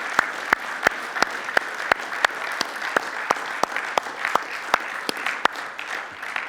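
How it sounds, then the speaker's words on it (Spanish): A church congregation claps together in a steady, brisk rhythm, sharp and fairly close, forming a sustained round of applause with no voices on top. "¿Puedes darle un fuerte aplauso al Señor?"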